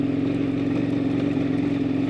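A KTM adventure motorcycle with a loud exhaust that needs repacking and a delaminating carbon fiber tip runs at a steady idle, a close, even buzzing drone with no change in pace.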